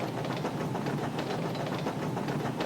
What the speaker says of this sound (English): he's going so fast, he's blown steam in Emily's face.